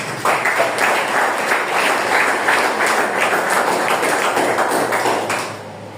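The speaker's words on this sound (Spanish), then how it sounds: "dale palmas al Señor" A church congregation clapping together in praise, a loud, dense and even wave of many hands that fades slightly at the end.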